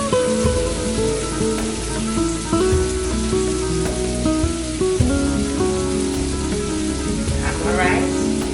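Rice frying in a paella pan gives a steady, loud sizzle throughout, close up and with no talking.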